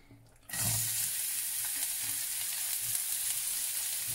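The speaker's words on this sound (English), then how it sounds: "onions and garlic. Cook it for a minute or 2." Onions and garlic hitting a hot pan, a sudden loud burst of sizzling after a quiet half-second, then a strong steady hiss with light stirring scrapes.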